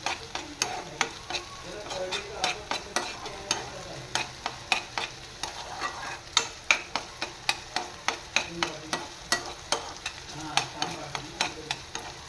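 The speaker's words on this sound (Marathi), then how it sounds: "छानपैकी मस्त परतवून घ्यायचं आहे कांदा." Onion for pav bhaji frying in a pan, sizzling steadily as a spatula stirs and taps in a quick, regular rhythm, close-up with no voices.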